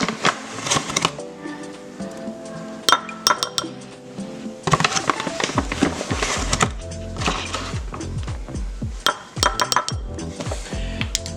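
A whisk works wild game stock and flour together in a bowl, giving quick, busy metallic clinks and scraping that run steadily and loudly throughout, with a brief pause partway.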